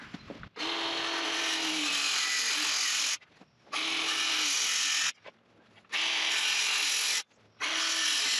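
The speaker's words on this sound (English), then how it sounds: "I'm going to try going all the way around with a circular saw." A circular saw cuts around a wooden fence post in an espalier apple garden. It sounds as four separate buzzing runs of about two seconds each, split by short near-silent pauses.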